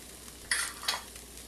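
Caraway seeds and Thai chili pepper sizzle in an Instant Pot, a soft steady hiss with two brief scraping stirs, close and fairly quiet.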